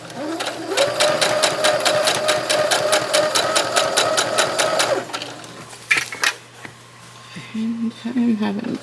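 A sewing machine stitches an apron in a fast, steady run of needle strokes for about four seconds, then stops; a few clicks and handling sounds follow with a voice talking under and after.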